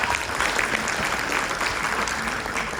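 Steady applause from a theatre audience at a Ramayan stage performance, dense and continuous clapping filling the whole stretch at an even level.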